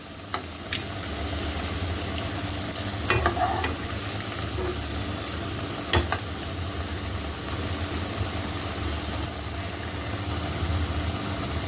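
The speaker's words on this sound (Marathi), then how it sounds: "खमंगपणा येण्यासाठी म्हणून तळून घ्यायला लागते ती" Steamed cabbage vadi pieces shallow-frying in hot oil, a dense steady sizzle lasting throughout, close and fairly loud, with occasional sharper pops and spatters and a low background hum.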